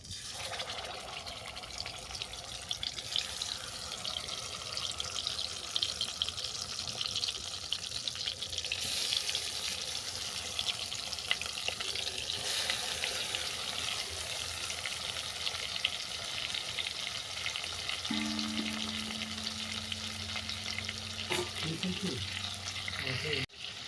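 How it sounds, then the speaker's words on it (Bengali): Prawns coated in salt and turmeric frying in hot oil and ghee, a continuous dense sizzle that stays loud throughout, with stirring clatter and a brief tonal hum near the end. "তেল আর ঘি গরম হয়ে গেছে এরপর তুলে দেবো লবণ হলুদ মেখে রাখা চিংড়ি মাছ"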